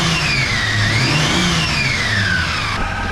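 Engine of a Toyota LandCruiser 80 Series revving freely after a stutter off idle blamed on a faulty mass airflow sensor, a steady close loud roar with rising and falling pitch over about three seconds.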